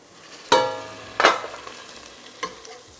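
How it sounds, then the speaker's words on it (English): Onions dropped into melting butter in a pot give three sharp clattering bursts followed by a soft, steady sizzle, with no voices. "I'm going to go ahead and put my onions in the melting butter"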